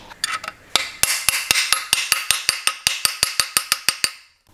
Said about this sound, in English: And then you tap it in nice and evenly.